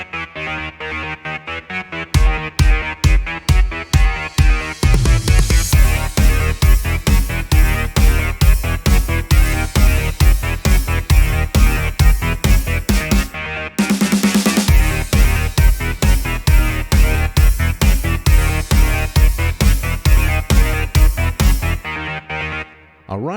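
A pulsing synth sequence programmed in Toxic Biohazard in FL Studio 21, recreating a song, with loud, rapid, evenly spaced notes over a heavy low end, a brief thinner break midway before the full driving pattern returns.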